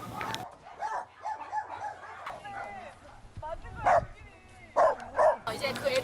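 Several dogs bark and yip in bursts at a private animal shelter kept in dirty conditions, with spoken voices running through most of the recording.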